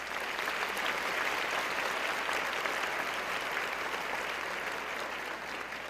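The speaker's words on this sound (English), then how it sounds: "So please give them one more round of applause" A large conference audience at the UnidosUS event gives sustained applause for corporate sponsors, an even, steady roar of many hands clapping without a break.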